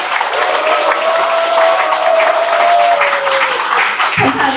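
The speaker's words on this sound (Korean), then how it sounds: "시민 여러분께서도 동의하신다면 힘찬 박수로 응원해 주십시오." A crowd at an election campaign office opening breaks into loud, sustained applause, steady clapping filling the room for about four seconds before cutting off abruptly.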